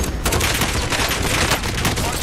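Dense, continuous gunfire from Call of Duty: Warzone, rapid overlapping shots and bursts packed tightly at a loud, steady level with no pause, while players talk over it.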